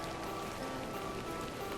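Steady rain patters on surfaces in The Excavation of Hob's Barrow, at the Barrow. The rainfall is constant, soft and even, with no voices.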